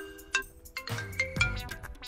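A phone ringing indoors, a few short electronic tone bursts repeating quietly at an uneven pace, with low background clatter and no clear talk.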